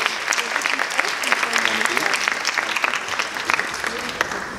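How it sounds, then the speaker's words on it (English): Steady, loud applause from a live audience at a science competition finals, with dense clapping sustained throughout and faint voices mixed underneath. "big applause for the 55 kilograms of live weight"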